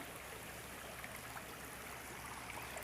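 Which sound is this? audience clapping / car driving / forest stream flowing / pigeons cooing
forest stream flowing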